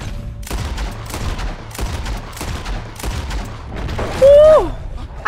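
Rapid gunfire from a repeater rifle in Red Dead Redemption 2 crackles through a busy game mix, several shots in quick bursts over rumbling background, with a brief whistling tone near the end.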